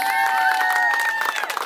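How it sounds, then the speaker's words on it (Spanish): Wedding guests clap for the newlyweds, a brief burst of crowd applause and cheering with steady sustained tones running beneath it, loud and close. "¡Fuerte las palmas para ellos!"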